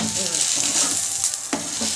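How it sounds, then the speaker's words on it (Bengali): A fish roe omelette fries in oil in a pan with a loud, close, constant sizzle, broken about midway by a single brief scrape or stir. "এবার এই পাশটা এরকম আমি ভেজে নিই।"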